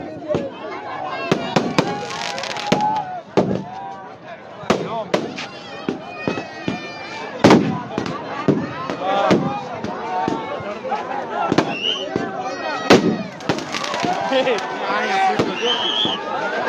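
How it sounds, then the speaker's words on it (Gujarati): Fireworks display on the shore of Samantsar lake in Halvad, sharp bursts and crackling pops in irregular rapid succession over a steady crowd murmur and a voice speaking. "જે આતશબાજી ચાલુ છે ત્યાંથી બધા દૂર રહેશો"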